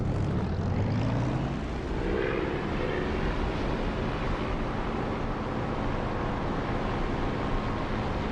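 An aircraft engine in the DCS flight simulator game roars steadily during takeoff, a dense continuous drone that opens with a rising tone and holds loud throughout.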